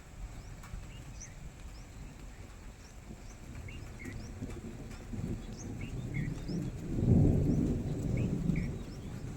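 Low thunder rumbles across a rainy-season sky over a village at the first monsoon rain, swelling into a louder roll near the end, with faint bird calls chirping in the background and no talk.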